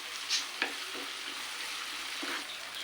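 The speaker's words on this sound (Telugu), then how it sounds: "కొంచెం ఫ్రై అయిపోయింది ఇప్పుడు అల్లం వెల్లుల్లి పేస్ట్ వేసుకుంటున్నాను" Ginger-garlic paste frying in a pan for a taro and egg tamarind curry, with a soft continuous sizzle and a few brief scraping stirs of a spoon against the pan, close and fairly quiet.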